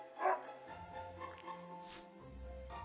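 Princess, a dog in the video game Another Code, lets out a few short barks and yips, fairly quiet, over soft game background music.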